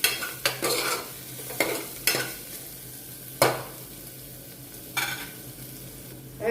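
A spoon scrapes and clanks against a pot of urad dal several times at irregular intervals while the food sizzles steadily underneath.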